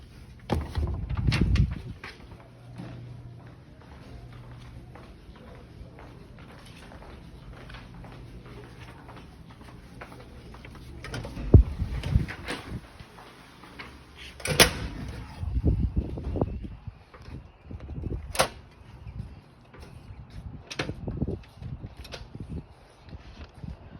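A door opening as someone steps outside from a science lab on a quiet morning, with scattered clunks, knocks and bangs of handling and movement across a long stretch, some sharp, others muffled.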